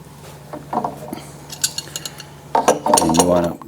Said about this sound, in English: you want to get a wrench on that